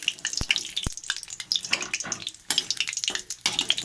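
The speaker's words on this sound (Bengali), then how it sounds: "আর এই কটা ভাজলে আমার হয়ে যাবে" Pieces coated in rice flour fry in a pan, crackling and spitting in bursts close by, with a couple of sharp knocks and brief gaps between the sizzling spells.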